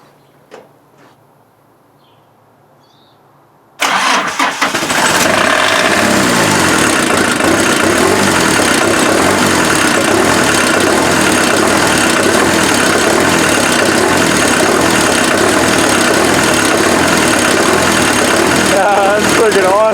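An off-road Mazda engine with compound turbos cranks and catches about four seconds in after near silence, then settles into a loud, steady, rumbling idle that runs to the end.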